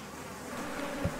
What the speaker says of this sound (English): Killer bees have a unique and chilling characteristic. They will relentlessly pursue fleeing victims